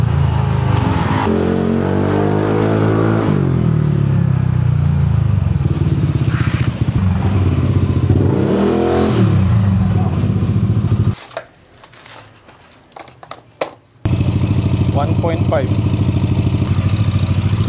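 Yamaha NMAX V3 scooter fitted with an RS8 CVT and an open exhaust, running loud and close with revving engine noise throughout, briefly cutting out near the end before resuming; a voice talks over it.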